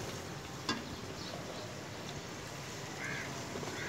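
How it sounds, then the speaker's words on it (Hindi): Food in spice masala sizzles in a pan over high heat with a steady, crackling hiss, close and fairly quiet, with a faint clink near the start and no talking. "इसको हम भून लेंगे तेज़ आंच पे"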